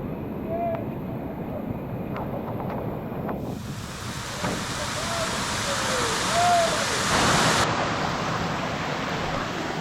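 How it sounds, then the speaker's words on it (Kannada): A river stream with a small waterfall in the Western Ghats around Kudremukh during a foggy monsoon trek rushes steadily. The heavy, continuous water roar blends with wind buffeting the microphone, and faint whistle-like tones rise briefly. "ಈ ಕಡೆ ಒಂದು ಚಿಕ್ಕ ಫಾಲ್ಸ್ ಓಪನ್ ಆಗುತ್ತೆ"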